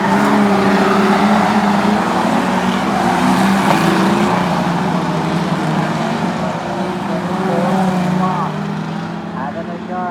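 Street stock race cars running under green flag at Mid-Western Speedway, Darlington: a loud, sustained roar of engines passing and accelerating around the track, with a commentator talking over it throughout.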